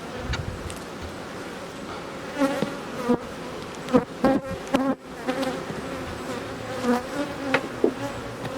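Honeybees drone steadily around an open hive during queen rearing with a Hopkins board, a dense continuous buzz with individual bees flaring louder as they pass close.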